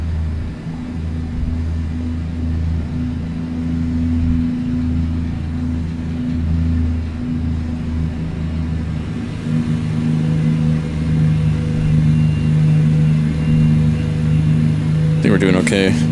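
A truck engine in American Truck Simulator drones as it climbs a hill, a loud, steady low rumble heard from inside the cab that swells slightly toward the end.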